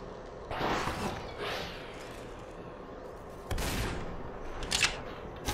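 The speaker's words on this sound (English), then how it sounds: "Dude, this gun is incredibly fast." Gunshots from a fast-firing gun in the game Superhot come in a few brief, sharp bursts spaced across a quiet stretch, each one whooshing and snapping at moderate loudness.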